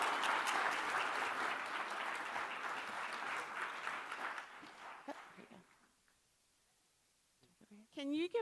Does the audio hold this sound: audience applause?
yes